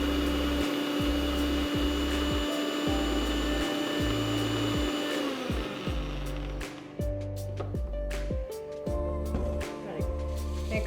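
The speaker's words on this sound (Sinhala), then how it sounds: "මේක අපි බ්ලෙන්ඩ් කරගමු" An electric blender whirs loudly and continuously as it blends coconut for coconut milk. Its motor pitch shifts in repeated steps as the contents churn.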